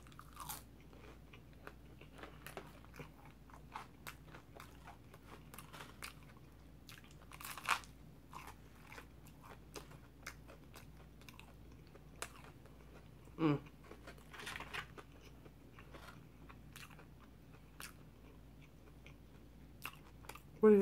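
Close, repeated crunching and chewing of crunchy battered fried fish with vinegar, at an uneven pace, with quiet background hum and occasional louder bites.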